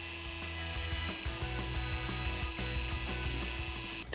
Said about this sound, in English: I'm gonna let the Dremel do all the work.